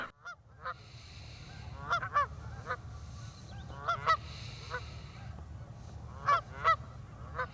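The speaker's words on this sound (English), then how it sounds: "these two Canadian geese thanked me for leaving them in peace" Two Canada geese honk in short paired calls near Kerrera, Scotland, several bursts spread over a few seconds, fairly near, over a low steady background rumble.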